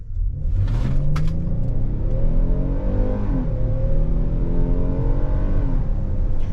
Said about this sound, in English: naturally aspirated torque delivery from the engine, really good, gets the vehicle up to speed and down the road